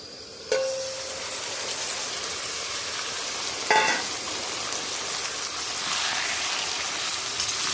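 Marinated mutton goes into a hot pan with a loud hiss and a clatter, then sizzles steadily and close; a second scrape and stir comes midway, with the frying staying dense and continuous and no talk.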